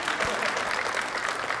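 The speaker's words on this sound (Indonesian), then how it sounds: "tepuk tangan buat bintang tamu kita malam hari ini" Studio audience applause on an Indonesian evening talk show, a dense steady patter of clapping filling the whole stretch at even loudness, with a faint voice briefly underneath.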